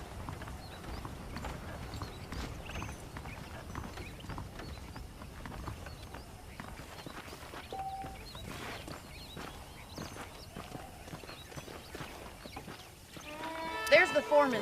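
Horse hooves clip-clopping at a walk in the video game Red Dead Redemption, a steady rhythmic patter of moderate loudness with a character talking over it, plus a brief distinct sound near the end.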